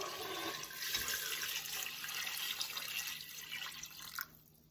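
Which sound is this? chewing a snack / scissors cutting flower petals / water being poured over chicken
water being poured over chicken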